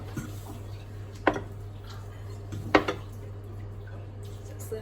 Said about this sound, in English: Now I'm just gonna be serving everything up in cute little bowls